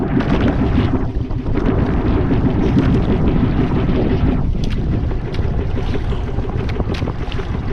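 A motorboat engine drones continuously while the boat circles on open water, a loud low rumble mixed with heavy wind buffeting on the microphone throughout.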